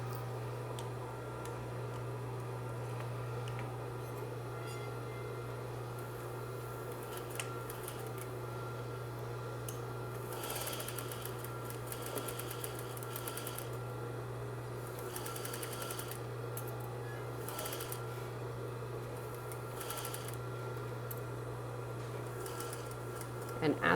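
A sewing machine runs steadily as it stitches a skirt placket seam, a constant motor hum with rapid needle ticking that speeds up in bursts, under occasional soft talking.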